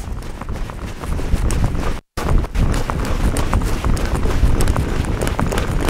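A horse being asked into a trot under a Western rider, with steady rhythmic hoofbeats clip-clopping at close range over a continuous, rough wind-buffeted background, with one brief dropout partway through.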